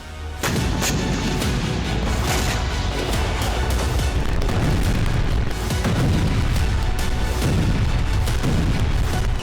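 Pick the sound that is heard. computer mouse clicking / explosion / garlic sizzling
explosion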